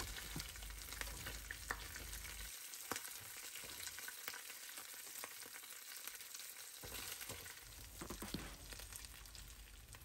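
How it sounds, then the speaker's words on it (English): Pork ribs fry in a skillet for Mexican costillas de puerco, giving a steady, close sizzle with brief stirring scrapes that drops away for a few seconds midway before resuming. "I'm going to continue to cook these ribs until they have a nice golden crust on them"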